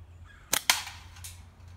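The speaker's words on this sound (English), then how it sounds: "Shoot the can just to warm it up" A slingshot shot strikes a can downrange: two sharp cracks close together, a snap followed quickly by a metallic impact, then a fainter tail, with no talk.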